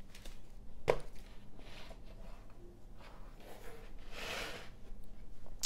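Knife trimming the excess puff pastry around the rim of a tart mould for an apple crumble tart, a few soft scraping cuts with one sharper tap, close and quiet, with no talk.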